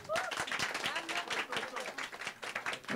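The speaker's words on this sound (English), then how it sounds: "I think I can give a big round of applause." A crowd applauds at a Bollywood book launch with a film star, brisk dense clapping over a few seconds, fairly quiet and distant, with voices talking over it.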